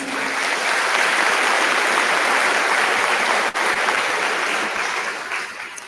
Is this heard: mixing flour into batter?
no